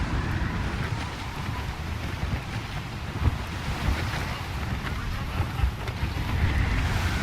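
Stormy wind and crashing waves buffet a sailing ship in Assassin's Creed Rogue, a dense, steady roar of gusts and surf with no voices over it.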